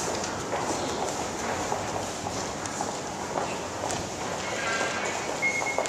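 London Underground tube train at the South Kensington eastbound platform, heard as a steady rumbling station din with rail noise and a brief high squeal near the end, with footsteps and crowd bustle mixed in.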